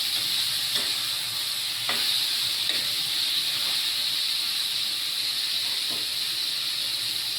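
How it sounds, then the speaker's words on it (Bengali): Potato pieces cooking in a bowl of water on the stove, a constant hissing, bubbling simmer with a few soft clinks of a utensil, close and steady throughout with no talking. "আলুটা একটু সিদ্ধ করে নিচ্ছি বাটিতে, তাহলে তাড়াতাড়ি হয়ে যায়"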